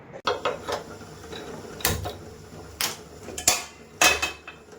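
A metal cooking pan set down on a stove to roast onions: a handful of close, sharp metallic clanks and scrapes spread across a few seconds, with quiet kitchen rustle between.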